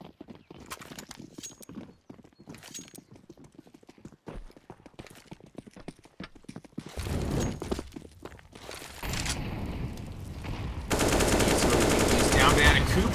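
Gunfire in a Counter-Strike match on Inferno during a pro esports qualifier: scattered clicks and footsteps build into bursts of rapid shots, ending in a sustained dense volley.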